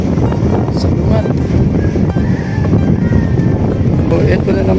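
Headwind roaring across the microphone during a bike ride to Pamplona, loud buffeting gusts that rumble throughout with a person speaking under the noise.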